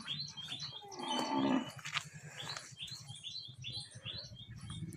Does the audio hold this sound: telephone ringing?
no